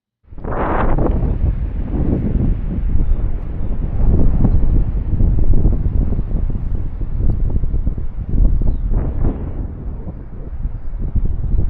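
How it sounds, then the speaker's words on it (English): Strong wind buffeting the microphone on a golf course in County Kerry, Ireland, a constant low roar with gusts rising and falling, no voices. "As you could tell, it was a little bit windy that day,"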